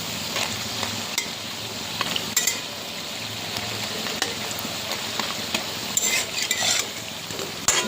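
Drumstick flower fritters frying in hot oil, a continuous bubbling sizzle with occasional light clinks of a utensil against the pan, with no talking.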